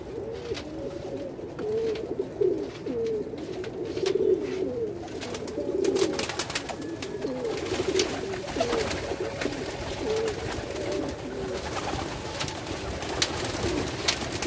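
Pigeons in a loft waiting for their bath coo repeatedly at close range, soft rolling calls overlapping one another, with occasional light clatter and no voices.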